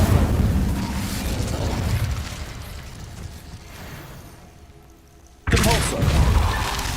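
In Hogwarts Legacy, the Incendio fire spell bursts into a dense roaring whoosh of flame that fades to a low hiss, then erupts again with a sudden loud blast near the end.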